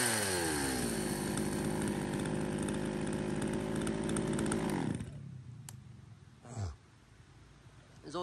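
Loud Japanese-market Shindaiwa chainsaw engine, a 360 or 380 series saw, revving steadily at high speed after a pull start, then cut to a low idle with a brief rev and a clatter near the end.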